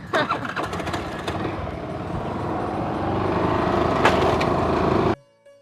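A motorcycle engine starts and runs steadily, carrying passengers along a rough road, loud and close for about five seconds before cutting off abruptly.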